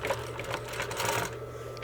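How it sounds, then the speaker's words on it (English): A sewing machine runs steadily as it stitches a curved seam through fabric, a close, continuous mechanical whir with rapid needle chatter from start to finish and no voices. "put them underneath the sewing machine, hold your back threads, sink your needle, sew,"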